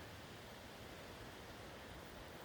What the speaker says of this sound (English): with a creek right over here.